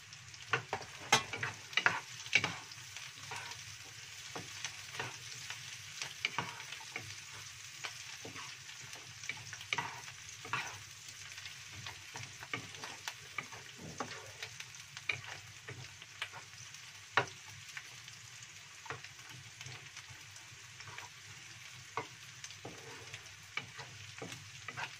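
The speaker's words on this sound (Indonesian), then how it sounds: "Sekalian bawangnya ditumis sampai mengharum." Onions being stir-fried in a pan, a low, steady sizzle under frequent clicking and scraping of a utensil against the pan in an irregular rhythm, close but fairly soft, with no voices.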